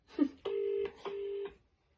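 A telephone line gives a short blip, then two long, even ringback tones separated by a brief pause, clean and moderately loud against silence.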